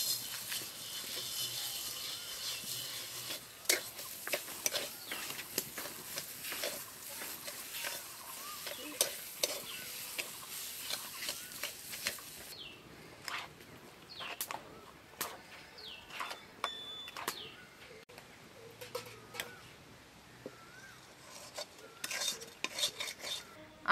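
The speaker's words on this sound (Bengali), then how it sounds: "আমি এখানে ছানাটাকে কড়াইয়ের মধ্যে খুব ভালোভাবে নেড়ে নিয়েছি।" Chhena and sugar stirred in a kadai for sandesh, with repeated scraping and clinking of a spoon against the pan, moderately close, continuing steadily with brief pauses and no talk.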